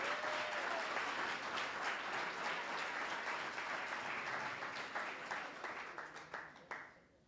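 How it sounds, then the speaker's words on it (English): Audience applause for participants at a drug summit, a quiet, distant-sounding spell of steady clapping that holds for several seconds, then tapers into scattered final claps and fades out. "I wanted to give just a round of applause to everybody up here"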